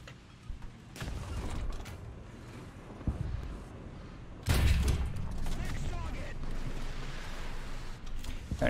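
Tank cannon shots from a CV90 105 TML in War Thunder realistic battles, sharp booming blasts around the one-, three- and four-and-a-half-second marks, loud and close, over engine rumble and mechanical clanking with a voice talking between.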